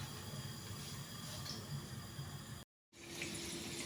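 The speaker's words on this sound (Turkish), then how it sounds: "İzmir köftemin patatesleri kızarıyor bu şekilde." Steady broadband sizzle of potatoes frying in hot oil, continuous and close, with a brief cut to silence before the frying resumes.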